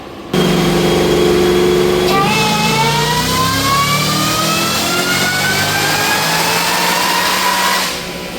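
A car engine fitted with a Roush supercharger revs hard on a dyno pull, a loud sustained roar climbing steadily in pitch with a rising supercharger whine over several seconds before easing off, no talking.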